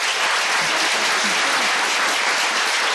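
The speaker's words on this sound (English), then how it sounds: "we should all give a big round of applause to this amazing Board of Education" Dense, continuous applause from a crowd at a township Board of Education meeting, a steady wash of many hands clapping at even loudness for the full three seconds, with no talking on top.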